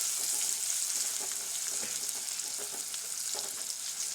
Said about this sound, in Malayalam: ഈ എണ്ണയിലേക്ക് കുറച്ച് മഞ്ഞൾപ്പൊടിയും കൂടി ഇട്ട് കൊടുക്കുക.